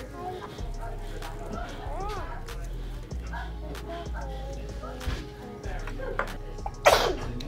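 One sharp, loud sneeze bursts out near the end, following steady conversation and eating sounds at a ramen restaurant table.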